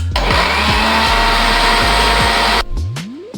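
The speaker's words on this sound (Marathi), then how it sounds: "जर तसंच तुम्ही मिक्सरमधून फिरून घेत असाल" A mixer grinder churns curd into buttermilk with a loud, steady motor whir and rhythmic pulsing, then cuts off abruptly and winds down with a falling whine.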